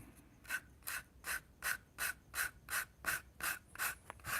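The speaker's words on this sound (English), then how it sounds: "just gonna sand in one direction for now." Hand sanding of a Corvair interior part, with ten evenly spaced rasping strokes in one direction, close and steady, each a short scratchy sweep with no talking.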